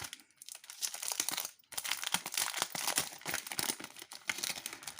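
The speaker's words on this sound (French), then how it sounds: "Je les enlève de l'emballage" Small items being pulled out of crinkly plastic packaging, a close, continuous rustle and crackle of wrapping handled in bursts with a brief pause near the start.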